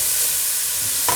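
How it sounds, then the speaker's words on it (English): Onions and garlic frying in oil and butter, a steady close sizzle lasting about a second, ending in a faint clink, with no talking. "And then I'm going to add the onions and the garlic, and we're just going to fry this for approximately 30 seconds."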